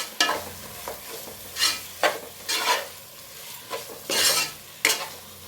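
Mutton biryani masala with coriander and mint leaves being stirred in a pot: repeated scraping strokes of a spoon, about eight distinct bursts with light sizzling between them.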